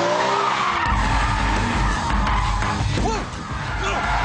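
Tyres on a BMW Z4 M squeal as the car understeers through a corner, a loud skidding screech over engine roar, with a voice yelling near the end.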